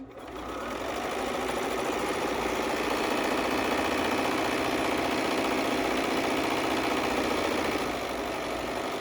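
A Bernina sewing machine runs steadily, stitching a fabric face mask with a continuous fast mechanical whir that starts abruptly and holds at an even level throughout, with no voices.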